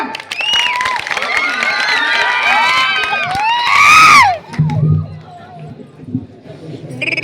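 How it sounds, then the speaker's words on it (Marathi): Audience at a Marathi stage drama bursts into loud cheering, whistles and shouting that swell to a peak, then fade as actors' voices take over and a few claps continue. "हो टाळ्यांचा प्रतिसाद तर द्या"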